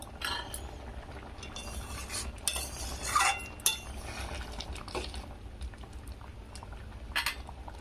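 Masoor dal cooked with bottle gourd greens bubbles quietly in a pot, soft faint simmering under occasional clinks and scrapes of a spoon against the vessel, with no voices.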